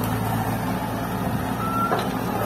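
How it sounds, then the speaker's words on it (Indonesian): A Cat excavator loading fill soil into a truck at a work site, heard as a steady, close diesel engine drone with a brief high beep-like tone near the end. "lihat ekskavatornya teman-teman, menaikkan tanah timbunan"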